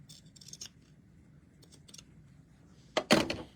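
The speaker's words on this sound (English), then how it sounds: "I'm just going to use some pinking shears to kind of just help reduce the bulk in those rounded parts" Pinking shears trim curved fabric edges on a towel bag, giving a few soft crunching snips early on and then a louder, close cluster of chopping cuts near the end.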